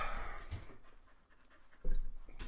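A dog pants in quick, breathy bursts close by, fairly quiet, with a brief pause midway before the rapid huffing resumes louder.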